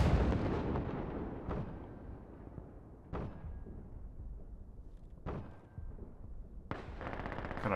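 Gunfire in the video game Insurgency Sandstorm: four sharp, loud shots spaced roughly a second and a half apart, each with a short echoing tail over a constant rumbling battlefield background.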